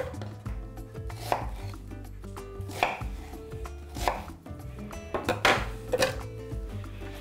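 A small onion being finely chopped with a knife on a board, a run of close, crisp irregular knocks and slices, alone without talking.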